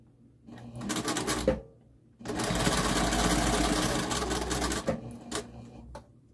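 A sewing machine stitches a zipper seam, running in two bursts: a short run, a pause, then a longer steady stretch of fast needle chatter, followed by a few brief clicks near the end.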